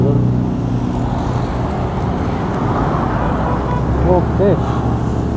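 Steady road traffic rumbles along a busy street in Batu Aji, with cars and heavier vehicles passing nearby, while a person talks over it and a brief horn-like tone sounds near the end.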